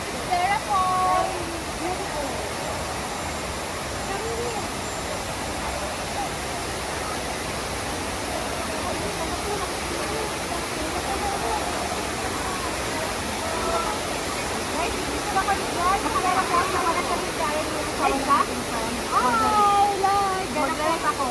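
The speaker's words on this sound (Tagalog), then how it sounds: "We are in Vera Falls" Vera Falls near Mayon Volcano pours in a constant broadband roar of falling water, steady and close throughout, with faint voices and chatter audible beneath the rush.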